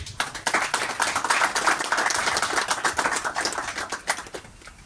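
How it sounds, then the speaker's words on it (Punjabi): A crowd claps to welcome a Liberal Party candidate at a campaign event in Surrey-Newton: dense, continuous applause of many hands held at even strength for several seconds, with no voices over it. "ਸਾਰੇ ਜਿਹੜਾ ਹੈ ਤਾੜੀਆਂ ਮਾਰ ਕੇ ਸੁਖ ਭਾਜੀ ਦਾ ਸਵਾਗਤ ਕਰੋ"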